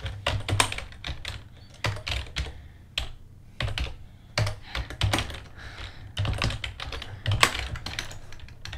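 Fingers type on a computer keyboard in quick irregular bursts of clicky keystrokes, close and crisp, with short pauses between runs and no voices.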